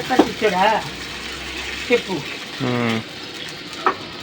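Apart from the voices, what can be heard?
water poured into hot oil, sizzling while cooking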